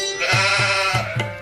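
A goat bleats in a quick run of wavering calls, close and clear, each cry rising and breaking with a throaty, nasal tremble.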